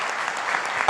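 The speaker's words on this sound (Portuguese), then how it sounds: "Um aplauso para o nosso irmão." A church congregation breaks into a brief burst of applause, a dense, even clatter of many hands lasting about a second.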